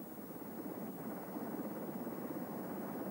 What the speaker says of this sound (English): As helicopters scoured the water for survivors